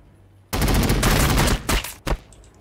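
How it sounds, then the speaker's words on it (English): Loud, close burst of sustained gunfire in the strategy game Warhammer 40,000: Battlesector, a roaring volley with two short trailing bursts, and no talking. "Fire these guys."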